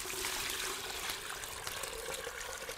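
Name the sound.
water poured into a large pot in a radio play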